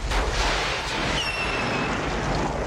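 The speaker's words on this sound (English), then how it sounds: "Then they try to make up for it by adding another badass explosion." A deep, sustained rumbling blast from the film Double Dragon roars continuously, heavy and loud, like an explosion with rolling low-end boom.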